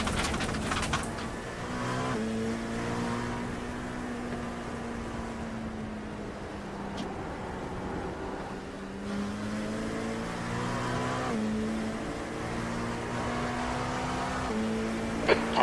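Race car engines in iRacing drone steadily and close with rising and falling revs through gear changes, holding loud and continuous for the whole stretch without talk.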